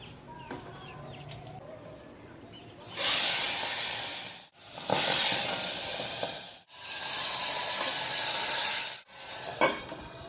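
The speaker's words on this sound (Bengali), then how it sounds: "এই লোটে মাছটা এখন বসাবো ফ্রাইং প্যানে তেল অলরেডি গরম হয়ে গেছে" Spiced Bombay duck fish hits already-hot oil in a frying pan, setting off a loud, close, broadband sizzle that surges in several long waves with brief dips between, and no talking.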